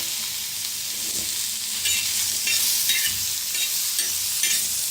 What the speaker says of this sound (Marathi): आता त्याच्यातच कांदा बी भाजून घेऊया तव्यातच